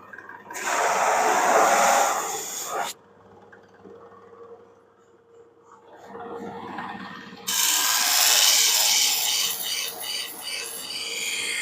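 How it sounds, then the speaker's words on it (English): A polishing mop buffs a wood veneer door capping for an MG GT with soft wax, producing two loud, close whirring bursts of spinning buffing separated by a quieter lull. "the yellow one is the soft wax on the soft mop"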